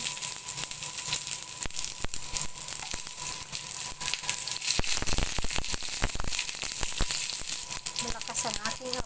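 Onion fries in a hot pan with garlic, giving a loud, continuous crackling sizzle full of sharp pops and spatters, with a heavier burst midway and a voice speaking briefly near the end.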